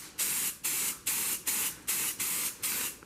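Spray paint goes onto car rims in seven short, evenly spaced hissing bursts, each about a third of a second long, close and fairly loud, with no talking.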